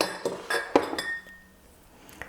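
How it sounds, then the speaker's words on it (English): Loose dried tea, red raspberry leaf among it, dropped into a glass, giving a few short clinks and taps over about a second before trailing off into quiet. "I'm going to put a little bit of my teas into my glass"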